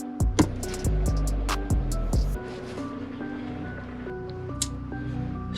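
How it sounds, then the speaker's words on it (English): Onboard electric water pump running in a water system built into a Toyota 4Runner, giving a steady mechanical hum with tonal whine after a few louder thumps and clicks at the start. It is fairly close and continuous, with no talk. "I have a switch down here that turns on the water pump"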